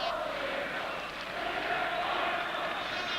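A massive crowd of about 50,000 fills a football stadium at a 1987 UEFA Cup final in Gothenburg, giving off a loud, steady, dense roar throughout.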